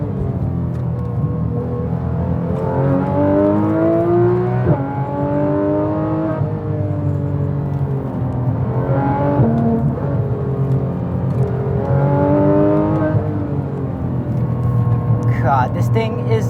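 A track-prepped Porsche GT3 RS on Nankang AR1 tyres, with AP Racing brakes and Dundon headers, revs hard along mountain roads, its engine note sweeping up and down through repeated gear pulls, loud and continuous throughout.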